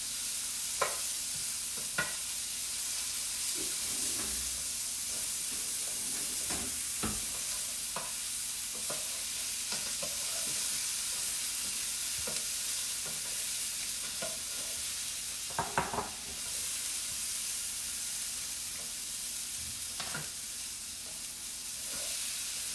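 Green beans sizzle and fry steadily in a hot pan, with intermittent scraping and stirring clatters as they are moved around to brown; no talking.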